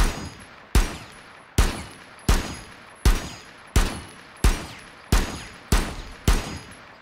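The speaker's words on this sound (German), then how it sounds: "hat man die Waffe und kann ein bisschen schießen" Montagne's gun in the tactical shooter Rainbow Six Siege fires nine loud single shots at a steady, evenly spaced rhythm, each crack decaying briefly before the next.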